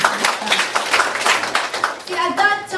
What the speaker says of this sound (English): Let's give a clap of praise.